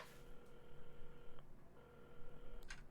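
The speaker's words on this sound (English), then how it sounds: "at the counter, Carmen had started dialing the phone" Phone being dialed in the game Assemble with Care: steady tonal beeps held for over a second, a short gap, then more tones and a brighter click-like blip near the end, moderately loud with no talking.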